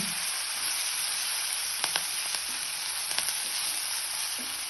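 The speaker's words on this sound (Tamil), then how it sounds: "இதையும் சேர்த்து நல்லா வதக்கிக்கலாம்" Onions and curry leaves sauté in a pan with a steady, hiss-like sizzle, punctuated by a few light clicks of a spoon against the pan, with no voices.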